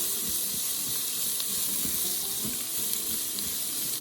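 Onions hitting hot avocado oil in a pot for pressure cooker coconut chicken soup, an even, continuous hiss with faint bubbling and scraping beneath, fairly quiet and unbroken.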